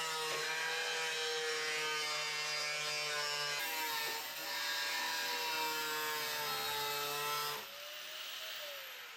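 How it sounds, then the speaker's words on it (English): Steady grinding or cutting on a metal car hood brace, a loud continuous tonal whine that shifts pitch midway and fades toward the end, with no talking. "we'll trim this hood brace around our hole on both sides"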